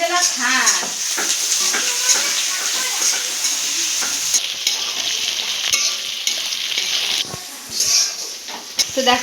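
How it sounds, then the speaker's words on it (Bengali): Onion and garlic sizzle in hot oil in a pan, with frequent stirring and scraping at close range. Someone talks over the cooking. "এদিকে আমার পেঁয়াজ রসুনটা ভালোভাবে ভাজা হয়ে গেছে"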